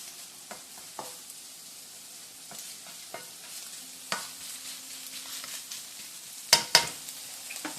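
Diced ham sizzles in a frying pan while being cooked for migas, a soft continuous fry with occasional stirring scrapes and a couple of sharper clatters near the end, no talking.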